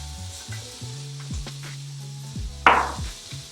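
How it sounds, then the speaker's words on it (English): Sausage sears in a hot pan with a continuous sizzle, a sharp burst of spitting crackle midway as it shifts, steady and close with no voices. "I'm basically gonna just get a sear on my sausage"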